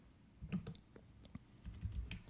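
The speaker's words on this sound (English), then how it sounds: "I need to type here picture" Light tapping on a computer keyboard while setting up a frame layout, a few quick irregular bursts of key clicks, close and fairly quiet with no talk.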